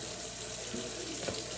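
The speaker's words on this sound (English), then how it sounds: "it's a must that I wash my meat" Tap water runs steadily into a sink as cubed steak is rinsed under the faucet, a continuous near splash with a brief louder spatter near the end, no talking.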